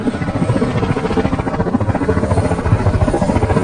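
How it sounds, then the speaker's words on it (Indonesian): A helicopter from a Vietnam War film flies close and loud, its rotor making a dense continuous thudding with no voices. "Joker dan Raptorman pun berangkat menggunakan helikopter"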